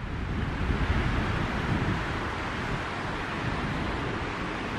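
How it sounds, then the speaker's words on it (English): Strong wind roars steadily through a forest, a loud, continuous broadband rush with no pauses, filling the whole stretch with buffeting gusts and no voices. "we have a really high wind right now"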